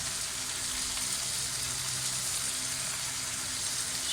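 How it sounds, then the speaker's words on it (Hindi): Carrots and cabbage stir-frying in a hot pan for restaurant-style Chinese fried rice, a loud, dense, unbroken sizzle that holds steady throughout with no voices. "गाजर हल्का सा फ्राई हो जाए तो हम इसमें डालेंगे बंद गोभी"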